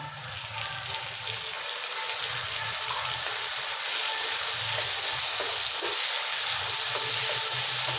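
Onions and tomatoes for a chicken curry fry in a pan with a steady, close crackling sizzle and occasional soft stirring scrapes, continuous with no talking.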